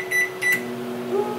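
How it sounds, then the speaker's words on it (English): A microwave oven hums steadily as it warms a portion of measured rice, with a couple of short high beeps near the start and the low drone running throughout, close and clear with no talking. "Now we're gonna warm this puppy up. Ooh, we got a nice clean microwave."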